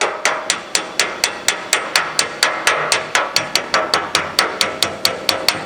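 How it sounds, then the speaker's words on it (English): A Snap-On hammer taps lightly on an aluminum bonnet panel for a Jaguar E-Type, with about twenty crisp, close, evenly spaced metallic strikes in a steady rhythm. "So I'm going to give it a little bit more with the snap-on hammer."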